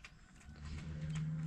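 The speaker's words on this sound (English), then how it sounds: "We've got a cow down there." A cow on a farm lets out a low, drawn-out moo that swells in loudness over about a second, heard at moderate distance in an otherwise quiet outdoor setting.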